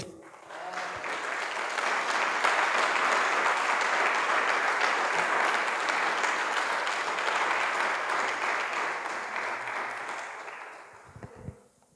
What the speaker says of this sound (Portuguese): aplaude Jesus aí